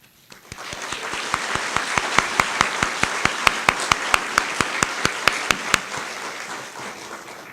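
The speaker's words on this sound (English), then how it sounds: "Please join me in a round of applause." Sparse, crisp clapping from a modest group at a graduation ceremony, the individual claps distinct and evenly paced, swelling briefly and then tapering off.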